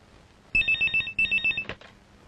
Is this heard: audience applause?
no